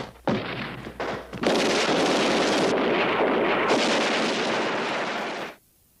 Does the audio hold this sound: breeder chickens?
no